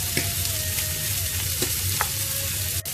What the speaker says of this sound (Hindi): हम मसाला कनी भूज लै छियै लहसुन प्याज।